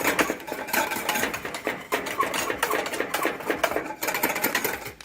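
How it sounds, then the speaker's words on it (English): A whisk beats eggnog with maple, kefir and rum continuously in a pot on a low-heat stove, giving a steady, rapid clatter of metal wires against the pot with a busy, scratchy texture throughout. "whisk it non-stop."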